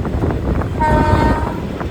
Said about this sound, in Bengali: আমাদের ট্রেন কিন্তু এখন প্রবেশ করে গেল মেন লাইনে